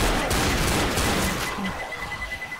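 Rapid gunfire rattles close and loud in a Left 4 Dead match, a dense burst of shots lasting about a second and a half before tapering off into quieter game ambience.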